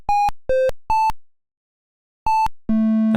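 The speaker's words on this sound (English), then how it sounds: "we've got a long load tone to make it obvious we failed" Beeping electronic tones from a Unity-built Simon memory game sound in a quick sequence of four short notes, then a pause, followed by a lower, sustained failure tone that runs to the end.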